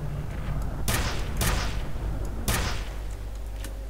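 Three sharp, loud nail gun shots in the game F.E.A.R. Extraction Point fire at uneven intervals over a constant background hum, each with a brief decaying tail.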